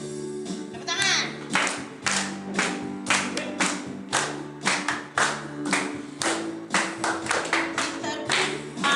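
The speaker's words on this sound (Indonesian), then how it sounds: "Tepuk tangan." A church congregation claps along in steady rhythmic time over worship music, the claps loud and regular with singing and instruments underneath.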